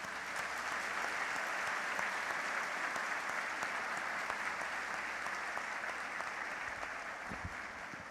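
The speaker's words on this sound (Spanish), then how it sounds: "Les vamos a dar un aplauso a los niños por estar aquí hoy día." A room full of people at a church Mass claps steadily for children, a dense even patter of applause that holds at a moderate level throughout.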